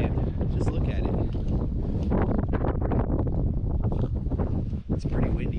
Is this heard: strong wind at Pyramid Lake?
yes